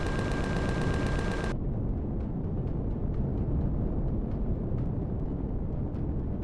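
Turret gunfire in the space survival game Empyrion Galactic Survival, Reforged Eden build: a loud dense burst opens the stretch, then a continuous rumbling barrage of rapid shots carries on at steady volume with no talk.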